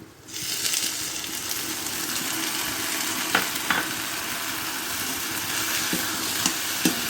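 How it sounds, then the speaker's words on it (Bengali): Soaked flattened rice (chira) being stirred with mashed banana, a soft continuous wet mixing with a few scraping taps from the utensil, close and moderately quiet with no talking. "এখন চিড়ে আর কলা মিশিয়ে নিচ্ছি।"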